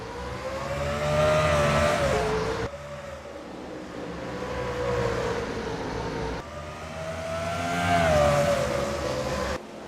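A field of race cars at Kalamazoo Speedway takes the green flag at the start of a WRLA Hoosier Summer Tour race, engines rising and falling in repeated loud revving surges with pitch sweeps as the cars pass, no voices.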